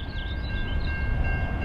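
An Amtrak Michigan Line train approaches a station. A steady low rumble of rolling rail cars is heard with faint squealing tones over it, continuous and moderately loud, with no speech.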